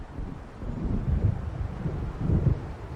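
Low, rolling thunder of an approaching storm over open water in the video game Alan Wake, two soft rumbles swelling around the middle and near the end under steady wind noise, distant and muffled with no talk.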